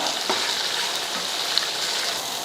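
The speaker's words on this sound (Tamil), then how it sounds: "வெங்காயத்து கூடயே நம்ம முருங்கைக்கீரையை சேர்த்துட்டோம்னா அதெல்லாம் சேர்ந்து வதங்கிடும்" Onion and drumstick leaves sauté in a pan, giving a steady, close sizzle of hot oil with a few faint stirring scrapes and no talk.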